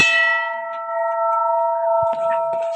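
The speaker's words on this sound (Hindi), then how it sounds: "हम यहाँ की घंटी बजा के आ जाते हैं।" A metal temple bell rings once with a loud strike, leaving a long sustained, slowly fading tone, with a few faint knocks and outdoor rustles near the end.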